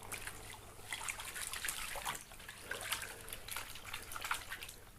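Faint, steady water trickling and splashing softly in a container while Dracula vampira orchid roots are loosened apart by hand, a quiet close-up continuous dribble with no talking.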